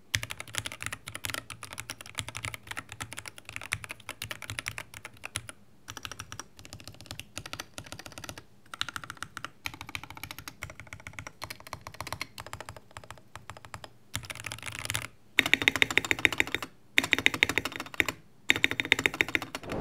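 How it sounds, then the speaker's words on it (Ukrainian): Someone types steadily on a Keychron K6 Pro 65% mechanical keyboard, with dense, close clicking keystrokes and louder, sharper bursts near the end, likely spacebar-heavy strokes, with no talking. "Давайте послухаємо тайпінг."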